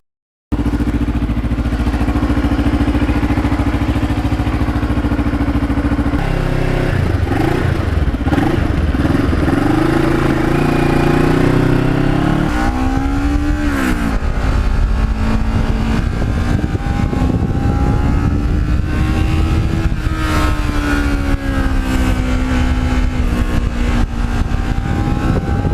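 Kawasaki Ninja motorcycle with an uneven-firing twin engine, heard close while riding on the open road: a loud, continuous drone that rises and falls as the revs change and the bike shifts through gears, with no talk.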